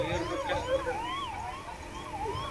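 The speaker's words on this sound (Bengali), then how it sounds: "লাগাতার অ্যাম্বুলেন্সের শব্দ আপনারা শুনতে পাচ্ছেন।" An ambulance siren wailing continuously at a plane crash site, rising and falling in repeated sweeps, loud and close with no talk.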